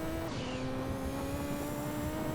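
Race car engine in Gran Turismo 2 holding a high, steady whine with a faint second car close behind, loud and continuous without any talk.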